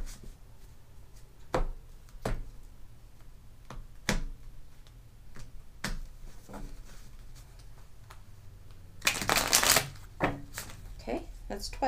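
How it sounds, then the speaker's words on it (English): Tarot cards are shuffled in several short riffling bursts, spaced a few seconds apart, with one longer, louder riffle near the end, close up over quiet room noise. "Then shuffle these three times as well."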